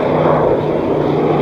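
A jet-powered Waco biplane flying an aerobatic display makes a loud, steady roar with a broad rushing drone and a constant low hum, filling the whole moment without a break.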